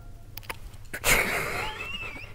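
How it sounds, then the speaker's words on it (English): A single sharp sneeze bursts out close and loud after a few quick sniffs, trailing off into a breathy wheeze during a makeup session. "I have like a sneeze attack."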